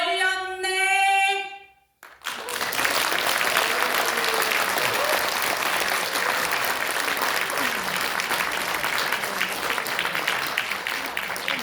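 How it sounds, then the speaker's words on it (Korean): An audience applauds after a poem recitation at a Korean political party launch event, steady dense clapping that goes on for about nine seconds after a brief tonal sound at the start. "우리 김자연 이사장께 다시 한번 큰 박수 부탁드리겠습니다"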